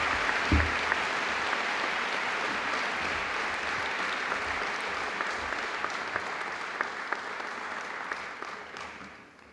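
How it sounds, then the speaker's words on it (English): An audience at a high school class commemoration applauds steadily for nearly ten seconds, a dense wash of many hands clapping at moderate distance that tapers slightly at the end. "Please give a warm round of applause for my good friend, Ash Gite."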